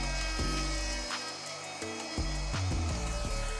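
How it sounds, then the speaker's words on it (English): A trim router fitted with a flush trim bit cuts openings through veneer laid over MDF, whining steadily at close range with repeated shifts in pitch as the bit meets the edges. "the flush trim bit made short work of all the openings that I veneered over"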